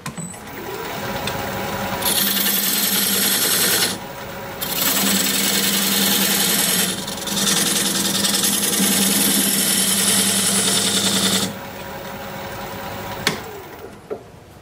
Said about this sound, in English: Use this diamond point tool to square up the sides of the tenon.